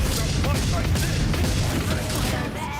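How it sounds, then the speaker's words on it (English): A burst-fire gun barrage in the video game Warhammer 40000 Rogue Trader, a dense, continuous volley of loud gunfire and booming impacts that rolls on steadily with no break. "And we'll fire off a burst fire."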